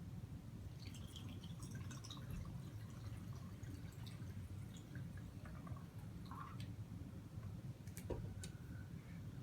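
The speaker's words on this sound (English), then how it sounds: "Now we will add the water to the remainder of the bottle." Water is poured into a bottle, heard as faint trickling, drips and small clinks against a low background hum, quiet and close.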